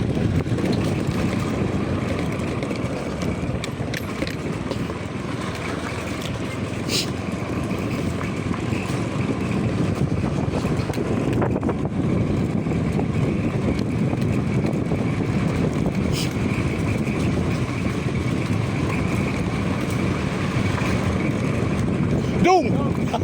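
A motorcycle on a road trip in the Philippines, with a continuous engine drone buffeted by heavy wind noise at steady loudness throughout the ride.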